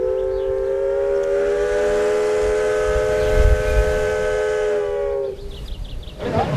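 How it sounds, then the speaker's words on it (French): A loud, sustained paddle steamboat whistle blows for about five seconds in one steady, rich harmonic tone, then cuts off, leaving rumbling steam machinery noise. "La réponse, le sifflet."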